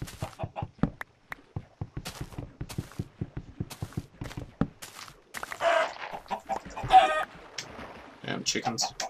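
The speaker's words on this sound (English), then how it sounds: "Chickens." Chickens in the video game Minecraft cluck in quick, repeated bursts close by, mixed with blocky footsteps and clatter, and someone talks intermittently over them.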